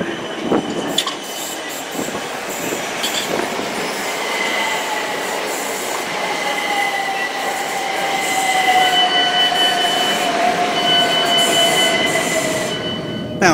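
Inside a passenger train travelling into London Victoria: steady rolling rumble with wheels squealing in long rising and falling tones, a few clicks over the rails, growing slightly louder toward the end.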